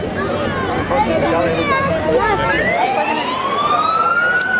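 A fire engine siren wails and sweeps upward as the engine arrives at a burning vehicle during a police open day demonstration in Trenčín, loud over a busy crowd and engine rumble.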